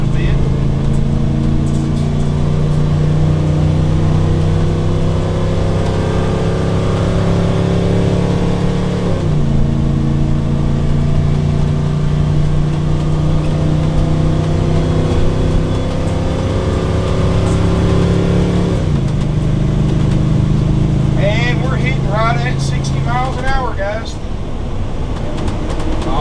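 A 2005 Fleetwood Pace Arrow 36D Class A motorhome's engine drones loudly and steadily on the road, pitch stepping up as it accelerates through gears, with cabin air and road noise filling the background.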